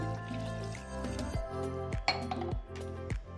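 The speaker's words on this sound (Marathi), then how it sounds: "आपण यामध्ये आता 1 ग्लास पाणी घालायचं आहे" A glass of water poured into a pressure cooker holding tamarind and jaggery, gurgling and sloshing close by, punctuated by several clinks of glass against metal.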